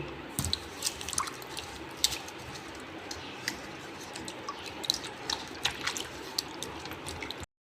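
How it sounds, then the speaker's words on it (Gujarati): Ten or twelve potatoes are washed by hand in water, giving close irregular drips, splashes and squishy sloshes with sharp little clicks, steady and fairly quiet with no talking, before chips are cut. "તો આપણે પહેલાં તેને ધોઈ નાખીએ પાણીથી"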